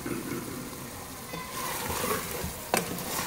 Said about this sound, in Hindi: चिकन को हमने तेज़ आंच पे भून ली है अच्छी तरह से।